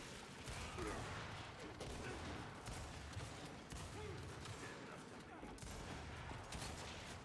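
Gunfire in the video game Gears 5 forms a faint, continuous crackling barrage that runs steadily through the whole stretch, with no clear pauses.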